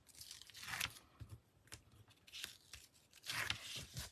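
Tape is torn off a roll in several close, raspy ripping bursts, with quiet crinkling in between, fairly faint and with no voices.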